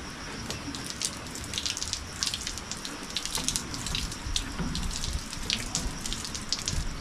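Water is poured while a cow is bathed outdoors, a steady near splashing and trickling with brief gushes, no talking.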